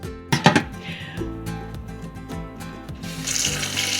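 Rose petals are rinsed under a running kitchen tap, the water flowing steadily and splashing close by, with brief louder spatters near the start and a brighter gush toward the end.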